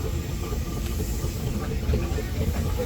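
A Marshall S-type convertible steam engine, able to serve as a road roller or traction engine, runs at a steam rally with a steady low chuffing rumble and hiss, a commentator talking over it.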